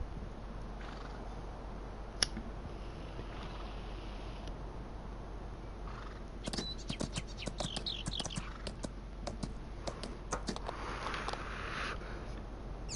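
Horse in Farming Simulator 19, steady soft hoof clip-clops under a constant low engine-like hum, with a sharper cluster of clicks and knocks in the second half.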